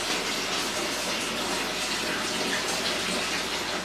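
Tap water running steadily into a container while setting up a home hydroponic system, a continuous broadband rush with no break, fairly close and unaccompanied by talk.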